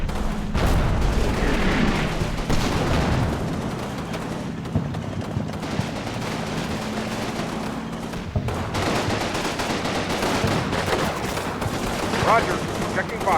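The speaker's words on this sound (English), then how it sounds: "last ditch effort by the Germans to dump a few more mortar rounds on us" German mortar rounds fall in Combat Mission Fortress Italy near Vellebruca, heavy low blasts and rumbling impacts under steady distant gunfire, loud through most of the stretch with a voice talking now and then.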